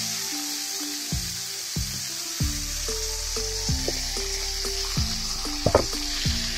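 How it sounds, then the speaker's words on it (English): Beef sizzles loudly in a pan of hot pepperoncini olive oil, a dense, continuous frying hiss up close with scattered pops and crackles, with a low music-like drone underneath. "So I have my pepperoncini olive oil inside of the pan. I'm getting ready to start putting my meat in here."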